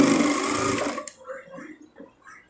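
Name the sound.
sewing machine stitching thread piping on blouse neck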